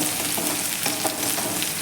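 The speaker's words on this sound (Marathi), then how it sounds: "आणि आता हे छान असं आपण परतून घेऊयात आपली फोडणी" Dense, crackling sizzle of spices tempering in hot oil for a radish dish, steady and close throughout the short moment.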